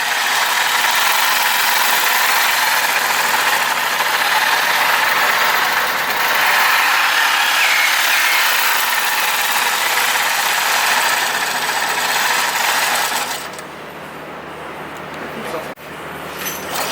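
Juki TL2200QVP quilting machine stitching, a continuous mechanical whir that rises and falls with speed, close and loud, cutting off near the end.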